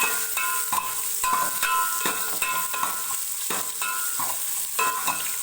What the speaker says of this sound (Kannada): ಕರ್ಬೆ ಸೊಪ್ಪು ಮತ್ತು ಮೆಣಸಿನ್ಕಾಯಿ ಹಾಕೋತಾ ಇದ್ದೀನಿ ಜೊತೆಗೇನೆ ಬೆಳ್ಳುಳ್ಳಿ ಈರುಳ್ಳಿ ಎಲ್ಲ ಹಾಕಿ ಒಗ್ಗರಣೆ ಹಾಕೋತಾ ಇದ್ದೀನಿ